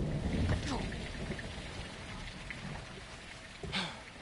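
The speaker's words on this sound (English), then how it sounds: "It's raining fucking hard." Heavy rain pours in a Modern Warfare 2 game scene, a dense, constant hiss of drops on surfaces with a few louder splashes and faint low rumbles underneath, fairly quiet overall.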